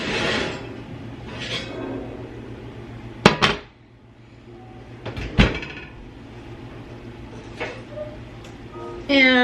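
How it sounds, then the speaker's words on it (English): A cast iron skillet comes out of a home kitchen cupboard with two sharp metallic knocks spaced a couple of seconds apart, set against quiet room noise with faint, soft voice sounds between them. "Okay, now I'm going to get out my cast iron skillet"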